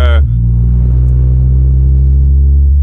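Nissan GTR engine running close and loud, a brief higher rev dropping into a steady deep idle rumble with a low droning tone that holds to the end.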